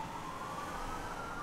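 A police car siren in the Police Simulator video game sounds faintly at a distance as the vehicle arrives, a steady wailing tone over a low rumbling background.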